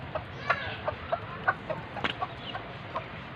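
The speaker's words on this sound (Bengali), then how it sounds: "দেখেন আমার এখানে প্রায় 5টা দেশি মুরগি, একটা বিদেশি মুরগি আছে, আর যে বাচ্চা আছে কিছু এটার মাঝে।" Native chickens and one foreign-breed hen, with a few chicks, cluck in short separate bursts while eating together inside an enclosed small backyard farm, with soft rustling between the calls.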